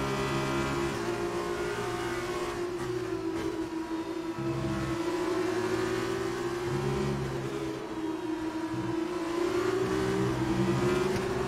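A Formula 2 race car engine in the F1 2019 video game howls with a steady, loud, high-pitched drone that rises and dips slightly as the car runs, with no voices over it.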